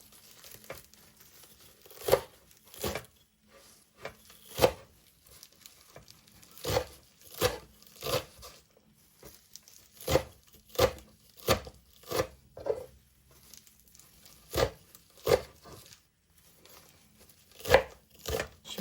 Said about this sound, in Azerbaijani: İndi keçib cincirlərimizi doğrayaq gözəlcə